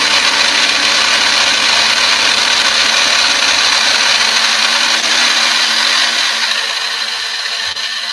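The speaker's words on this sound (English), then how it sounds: "If I put it in my big blender, it's done faster." A big blender grinds cayenne peppers with a loud, constant whirring roar that stays steady for about eight seconds, easing slightly toward the end.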